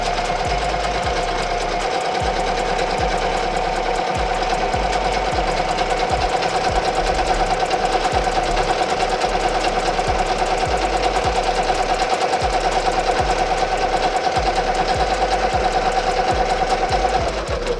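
An embroidery machine runs a placement tack-down stitch for an applique, a loud, fast, steady mechanical chatter with a constant motor whine that holds for the whole stretch and stops at the end.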